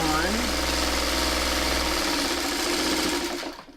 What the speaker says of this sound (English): I'm going to just sew these 2 together